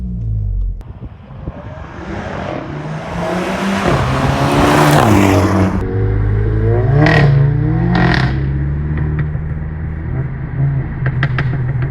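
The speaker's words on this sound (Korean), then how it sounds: "한국에서 골프 GTI에 저런 배기음이 있는 골프 GTI를 보셨나요?" A Volkswagen Golf GTI 7.5-generation with a DSG gearbox revs hard, rising and falling in pitch, followed by sharp exhaust pops and crackles with flames as the revs drop, loud and close.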